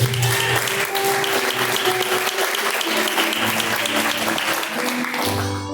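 A church congregation claps in praise during a live worship service, a loud continuous wash of hands with a sustained musical tone humming beneath, fading slightly at the very end.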